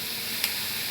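Coriander roots sauté in a pan for a chutney, giving a steady close hiss of sizzling oil with a brief brighter burst partway through, lasting about a second.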